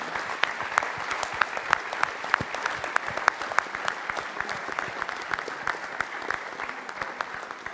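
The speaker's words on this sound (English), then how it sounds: "Please, a round of applause for them." An audience claps for speakers on stage, dense steady applause with sharp individual claps, moderately close and continuing throughout without pause.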